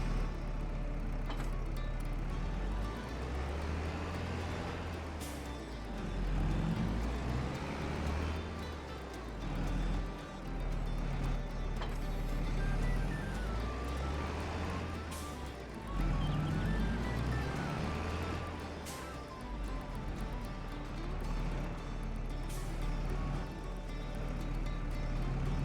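Tractor in Farming Simulator 22 drives out to the field to mow grass, its engine holding a low, steady drone that rises and falls as it moves.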